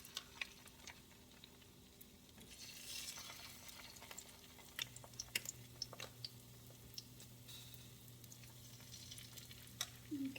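Chicken pieces fry in a pan with a quiet, constant sizzle and scattered crackles and pops, a faint steady hum running beneath and no talk.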